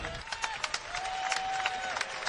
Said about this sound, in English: Claps all around from the Oregon bench and the Oregon fans